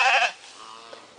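A single sheep on a family farm gives one short, clear bleat close by. A faint, quiet tail of ambient farm noise follows it.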